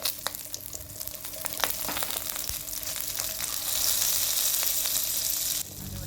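Onions sizzle and fry in a pan for a fish curry paste, a steady crackling hiss with scattered pops that grows a little louder toward the end, no voices present.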